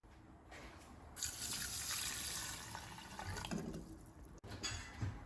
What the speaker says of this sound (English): we're gonna put in a cup and a half of this vegetable broth.